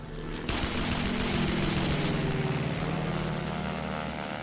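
Vickers .303 machine guns fire on a Fokker during a First World War aerial dogfight, a dense, loud, continuous rattle of rapid gunfire mixed with roaring aircraft engine drone, starting abruptly after a brief quieter moment.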